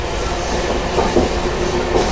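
Steady rumble of a local passenger train from Howrah to Puri running on rails, heard from inside a nearly empty carriage with soft seats, with faint clickety-clack and no talking.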